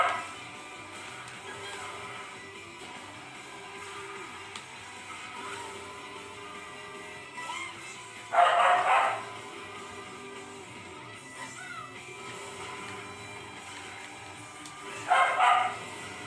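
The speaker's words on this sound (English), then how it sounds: "You obviously know my dog barks in the background of my videos all the time." A dog barks in the background of a room, two short sharp bursts of a few barks each, well apart, over a low steady hum and faint game sounds.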